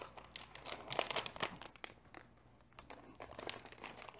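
A small plastic packaging baggie for an LG G5 bumper case is cut open, giving close, crisp crinkling and snipping rustles in short bursts with a quieter pause midway.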